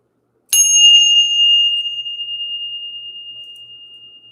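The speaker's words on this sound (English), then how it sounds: "We're going to ring the bell." A single ringing bell is struck once, sharply and loudly, to clear the energy, then rings on alone as a pure sustained tone that slowly fades over several seconds in a quiet room.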